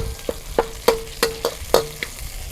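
Shrimp curry ingredients stir-fried in a pan, with five or six sharp, evenly spaced spatula scrapes and clinks over a light sizzle, close and alone.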